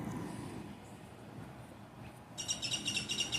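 Birds chirp outdoors near a grassy yard in a quick, rapid run of high tweets that starts near the end. Before that there is only a soft, steady outdoor hush, and no one speaks.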